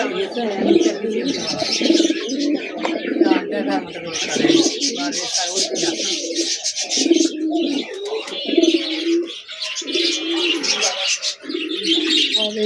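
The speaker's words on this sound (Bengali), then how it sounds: "এখানে, এখানে আছে পায়রা।" Many pigeons at a bird shop coo in repeated soft throaty pulses alongside chirping birds, a dense continuous chorus with someone talking over it.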